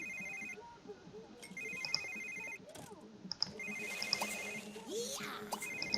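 A mobile phone rings in The Sims 3, a repeating electronic ringtone pattern over quiet game ambience, with brief voices in the background.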